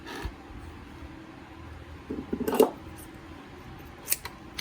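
A few quick snips of scissors cutting paper, faint against a quiet background with a short burst midway and another near the end.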